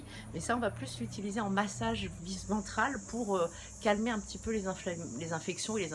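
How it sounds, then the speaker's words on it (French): Crickets chirp steadily in the background in fast, high, continuous trills while someone speaks French in the foreground over them. "Vous entendez, c'est les grillons là."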